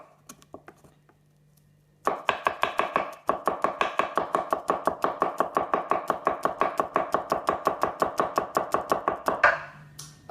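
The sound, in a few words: knife tap-chopping a garlic clove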